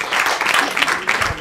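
Audience applause at a Gen-Z comedy show in Rwanda, a steady wash of many hands clapping close and loud, with a faint voice mixed underneath.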